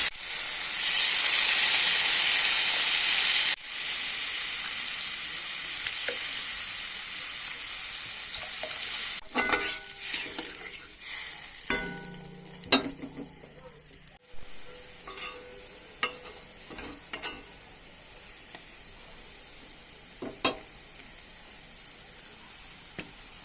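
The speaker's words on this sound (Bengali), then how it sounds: "মশলা ভালো করে কষানো হয়ে গেছে, দিয়ে দেবো এবার জল" Water poured onto fried spice masala for a bhetki fish curry hits the hot pan with a loud, steady hiss, then settles into quieter simmering broken by scattered spoon clinks and stirring scrapes.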